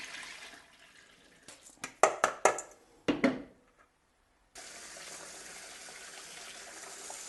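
Running tap water pours over sushi rice during rinsing, a broad steady splashing from the faucet that fades out and then returns and continues evenly, with a few sharp knocks and clatters from the rice bowl near the start.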